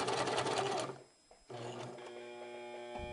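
Sewing machine stitching through paper, a close rapid mechanical whirr that halts briefly, then resumes with a steadier motor hum and regular needle clatter.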